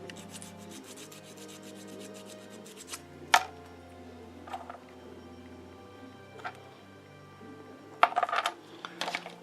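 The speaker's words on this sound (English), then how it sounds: "Sand this down a little bit." Quiet, soft rasping strokes of a sanding stick lightly sanding a small 3D-printed plastic part, a few scattered sharp clicks and taps among them, with a low hum underneath.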